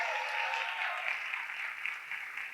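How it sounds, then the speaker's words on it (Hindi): Audience applause at a company anniversary and recognition event in India, a steady wash of many hands clapping together at moderate loudness, sustained evenly with no voices over it. "हम सबके चहेते मिस्टर देवानंद यादव सर के लिए, हमारे एमडी सर के लिए एक बार जोरदार ताली बजा देगा।"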